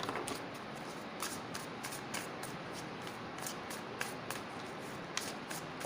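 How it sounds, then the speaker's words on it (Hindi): Tarot cards are shuffled close by, a soft rapid riffling and slapping with a steady rhythm of little clicks, quiet and without talk. "थोड़ा सा शफल करते हैं"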